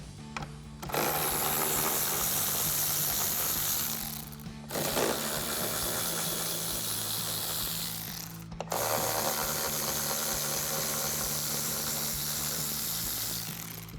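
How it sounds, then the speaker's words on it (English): Ratchet with a 10mm socket and extension loosening the mirror nuts on a RAM 1500 pickup, a steady fast mechanical clicking whir in three long continuous runs separated by brief pauses, close and loud with no talking. "We're gonna be using a 10mm socket, socket extension, and a ratchet."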